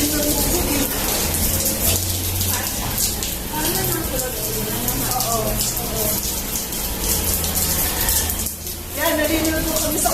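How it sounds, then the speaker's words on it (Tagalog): Water from a hose sprays through tree leaves like a rain shower over bathing seniors outdoors, a continuous hissing patter with splashes, under lively voices and talk. "Ulan na galing sa hose. Rain shower. Kumakalat siya dahil sa dahon na sa puno kasi."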